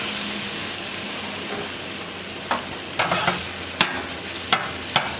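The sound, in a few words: plantain frying in olive oil in a pan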